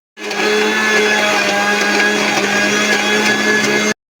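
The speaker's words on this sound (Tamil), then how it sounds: "போட்டுட்டு மறுபடியும் நல்லா இப்போது அரைக்க போகிறோம்" A mixer grinder whirs steadily as it grinds raw banana vada batter, a loud, continuous motor drone with a high whine that starts abruptly and cuts off after about four seconds.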